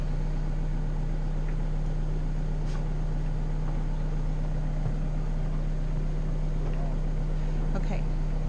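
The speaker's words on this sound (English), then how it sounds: "backing out the boat." A boat motor idles steadily in neutral and reverse while the boat backs out, a constant low engine drone with water and wind noise throughout, and no voices over it.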